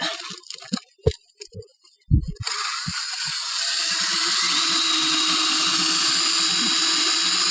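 A steady, whining power drill runs continuously, drilling bolt holes in a roof, after a few short knocks and bumps, loud and close.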